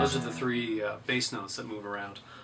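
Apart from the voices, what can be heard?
No distinct noise like a dog, phone or traffic.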